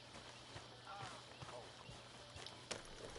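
Horse hooves clip-clopping at a steady trot in Red Dead Redemption 2, faint and regular under a constant low hum and ambient game noise, with a few louder hoofbeats.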